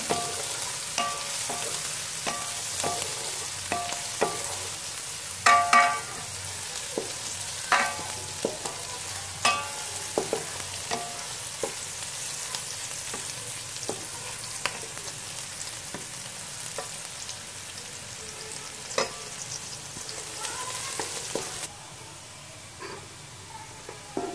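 Whole spices (cinnamon, cardamom, cloves and bay leaves) sizzle steadily in hot oil for a Bengali chicken and papaya curry, with a continuous close frying hiss broken by frequent sharp pops and stirring scrapes.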